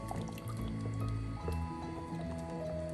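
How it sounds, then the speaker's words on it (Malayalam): Rinse water from a grinder jar pours into a pan of handi chicken curry, a close, wet, gurgling fill with soft squishy splashes, alone without talk. "ജാറ് കഴുകിയ വെള്ളവും കൂടെ ഒഴിക്കാം."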